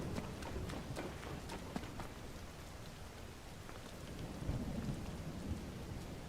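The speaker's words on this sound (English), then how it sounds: "Oh, lightning! I never thought of that." Steady heavy rain with repeated thunder cracks and rumbles during a storm in the video game Tears of the Kingdom, constant and fairly loud, with no voices.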